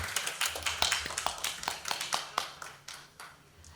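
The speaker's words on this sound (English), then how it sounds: "Can we give Janet and Tia Yao a round of applause again?" Audience clapping at a climate litigation conference masterclass, a patter of scattered hand claps at moderate distance that thins out and fades toward the end, no voices over it.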